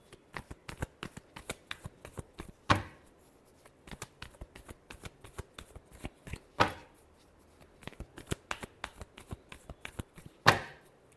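Tarot cards are shuffled by hand close up, giving a steady patter of soft card slaps broken three times by a louder riffling burst, quiet and with no talking.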